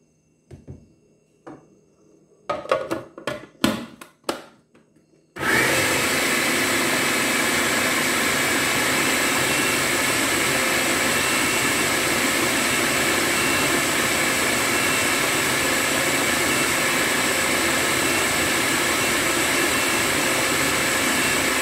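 A blender gives green seasoning a final mix: a few brief knocks and handling sounds, then the motor kicks in and roars loud and steady, close up, for the rest.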